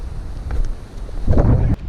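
Strong wind buffets the microphone on a mountain-top rock plateau, with loud, close, uneven roaring gusts that surge near the end.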